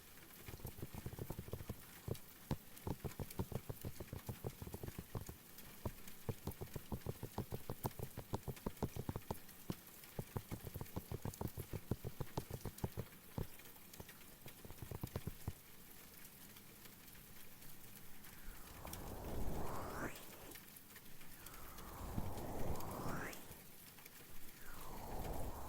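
Steady patter of rain falling on a rainy day, a dense close crackle of drops that continues throughout, with soft rustling sweeps near the end and no talking.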